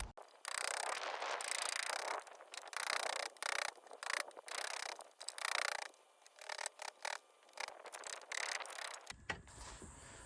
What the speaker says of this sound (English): Gonna do a little sawing and then chisel out the handle.